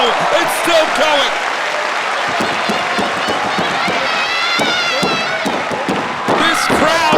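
A wrestling arena crowd roars and cheers loudly throughout a women's title match, with sustained dense noise, sharp bursts and thuds from the ring, and a commentator's voice cutting through.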